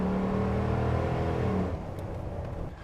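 A car fitted with a V8 conversion engine, used for off-roading, revs hard with a loud, steady low rumble that drops off near the end into a quieter idle.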